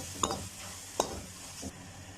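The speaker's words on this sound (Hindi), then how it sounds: "तो इस वक्त डालेंगे हम टमाटर। टमाटरों को सॉफ्ट होने तक पकाएंगे।" Tomatoes cook in a pan for a restaurant-style mixed vegetable dish, a low steady sizzle with a few brief stirring scrapes, close but fairly quiet.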